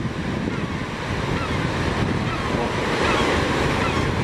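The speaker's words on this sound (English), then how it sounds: "you can catch a few waves here" Surf breaks around an RC surf bait boat in the ocean, giving a steady loud wash of waves with wind buffeting the microphone.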